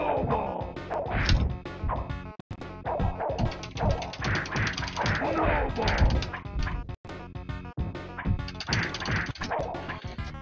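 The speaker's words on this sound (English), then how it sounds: "I like spamming Sneaky Punch." Repeated Sneaky Punch hits in the clay-animated fighting game ClayFighter 2: Judgment Clay, sharp cartoonish whacks and smacks landing in quick succession amid busy game effects, grunts and yelps, with a couple of brief dropouts.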